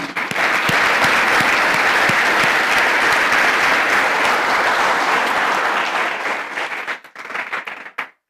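A church congregation applauds for God during a sermon: loud, dense clapping from many hands that fills the room for several seconds, then breaks up into a few scattered claps and stops.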